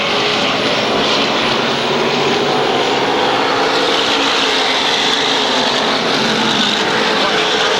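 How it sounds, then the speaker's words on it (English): SK Modified race cars roar around the 1/3-mile asphalt oval at Waterford Speedbowl, a dense, continuous engine drone filling the whole stretch at steady loudness with faint announcer-like voice traces underneath. "Jamie Marvin continues to lead the pack around the 1/3 mile asphalt oval."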